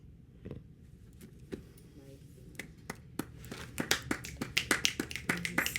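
Finger snapping from an audience at a live album release event, scattered at first and then building into a dense, quickening burst of many snaps, with a voice speaking faintly underneath.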